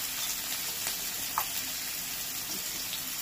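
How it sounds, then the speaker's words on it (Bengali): Chopped onion, garlic and green chili frying in a pan give a steady, even sizzle throughout, with a few faint clinks on top and no talking. "এবার এর মধ্যে দিয়েছি পেঁয়াজ কুচি, রসুন কুচি আর কাঁচা লঙ্কা কুচি"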